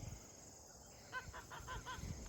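Several geese honk in a quick series of five or so calls, fairly faint and at a distance, over a low background rumble.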